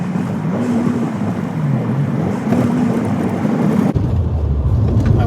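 Car pulling slowly into a residential driveway, a vehicle with a faulty ignition coil; steady low engine rumble and road noise with wind buffeting, shifting to a deeper idle near the end.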